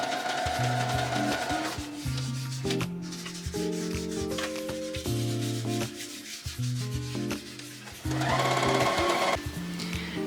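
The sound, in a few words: sewing machine sewing two fabric layers together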